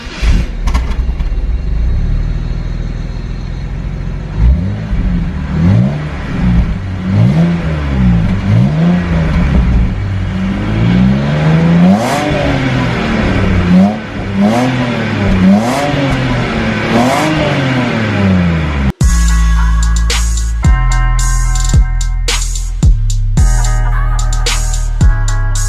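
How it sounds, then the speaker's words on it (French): A BMW 325i's 3-litre engine revs repeatedly, its loud, close tone rising and falling in a wavering rhythm of blips, then cuts abruptly to a choppy, harsher stretch of revving near the end. "je suis obligé de vous faire écouter quand même ce beau bruit du moteur 3 litres de chez BM"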